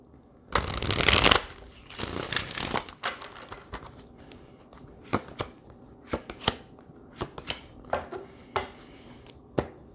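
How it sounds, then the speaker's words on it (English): Tarot cards are shuffled by hand during a reading: a loud riffling burst at first, then a run of crisp, separate slaps and flicks of cards, close and clear with no talking. "One more shuffle."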